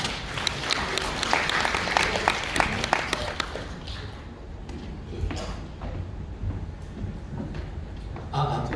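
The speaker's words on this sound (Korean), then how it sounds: "다시 한번 박수 부탁드립니다." Audience applause at a tech presentation, dense clapping that is loud at first and then thins out, with a few scattered claps near the end.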